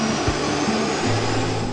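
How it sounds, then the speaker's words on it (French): Mirage 2000 fighter jet engine spooling up as the throttle opens, a loud, steady, broadband roar with a low rumbling undertone that holds close and constant throughout. "Écoutez le bruit quand le pilote lance les gaz."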